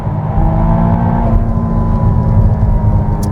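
McLaren Artura Spider accelerating along a freeway, a steady loud engine drone with a slight climb in pitch, heard from inside the car with no talking.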